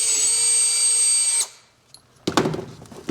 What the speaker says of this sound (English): If possible, use a drill press.